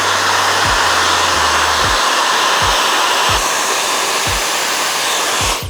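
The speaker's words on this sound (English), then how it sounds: "So I'm gonna go ahead and put my diffuser on." A hair dryer fitted with a diffuser blows steadily on low heat and high power, a loud constant roar with periodic low thumps as it moves, close and without talk.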